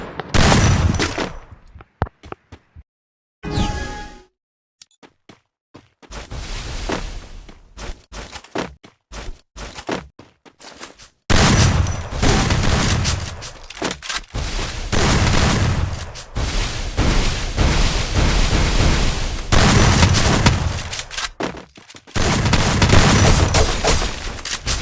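Gunfire in a shooting video game: loud, close bursts of rapid automatic shots and booming volleys in dense clusters, broken by short gaps of quiet between engagements.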